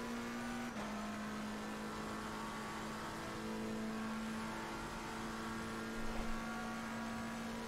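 A Porsche race car in a racing video game holds a steady engine drone with a sustained tonal hum that shifts slightly in pitch, continuous and fairly quiet, with no voices.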